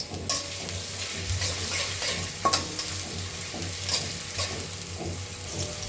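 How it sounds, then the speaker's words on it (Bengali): Chopped onions frying in hot oil in a wok for a bean and potato stir-fry, a steady close sizzle with occasional scrapes and stirring knocks of a spoon against the pan. "তেল একটু গরম হলে তাতে 4 থেকে 5 টেবিল চামচ পেঁয়াজ কুচি ছেড়ে দিলাম।"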